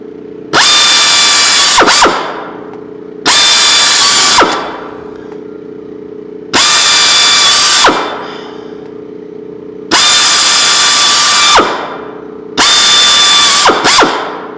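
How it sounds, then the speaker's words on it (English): A power drill whirs loudly in five long bursts, drilling the corners of a rigid MOLLE panel, each spinning up and stopping with a short gap of low hum between them. "then you just get a drill and you drill the corners"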